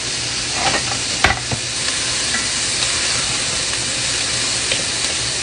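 Onions sizzle steadily in a hot pan, a constant hiss with a few sharp scraping stirs near the start, close and fairly loud, no talking.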